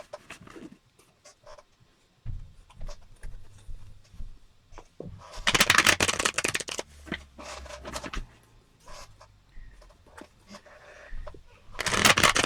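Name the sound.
shuffling playing cards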